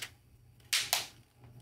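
Outer plastic layer of an iPhone 14 Pro Max Crave case snapping on, two sharp close clicks in quick succession, otherwise quiet.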